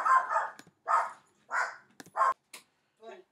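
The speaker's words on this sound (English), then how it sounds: "I guess somebody came home and the dog was barking" A dog barks indoors in a series of about five loud, evenly spaced barks, close by and alone, ending with a softer whimpering yip.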